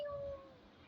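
A voice imitating a cat with one short, high, drawn-out meow, close and fairly soft.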